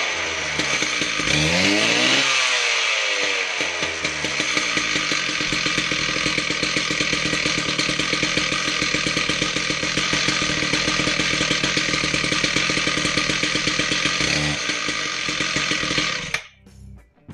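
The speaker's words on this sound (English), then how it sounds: "So we'll get this thing tightened up and then we'll give it a test run." A Husqvarna Cut n Break power cutter runs a test after a head bearing and clutch drum replacement: its two-stroke engine revs up and holds a loud, steady buzzing drone for about fifteen seconds, then cuts off abruptly.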